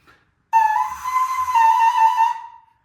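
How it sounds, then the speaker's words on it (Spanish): A clay replica ocarina whistle from Cuenca sounds one loud, steady, close tone held for about two seconds, with slight pitch wavering before it tapers off, no talking. "Así, suena en la mitad de tu cabeza este silbato."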